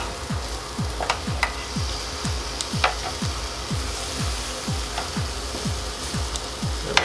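Chicken legs sizzling on a Chefman indoor grill, a continuous loud frying hiss with a regular series of low repeating thumps or ticks throughout and a few sharper crackles, no talking.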